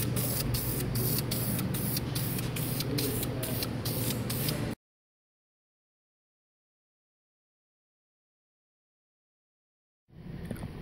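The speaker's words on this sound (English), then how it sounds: "so now I'm about to spray a light coat." A steady aerosol spray hisses in short pulsing bursts for several seconds while painting a brake caliper on a BMW E90 335i, then cuts off into silence before a brief rustle.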